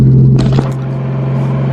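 Toyota Supra engine during a break-in drive, a loud steady low drone from inside the car with a steady hum, and a brief rise in noise early on before it settles.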